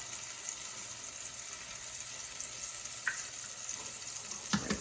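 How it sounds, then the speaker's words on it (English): Steady low sizzle of tomatoes frying in a pan, with a faint tap near the middle and a sharper crack and clatter near the end as eggs are broken in. "This is when you're gonna add your eggs one at a time. So you just break them."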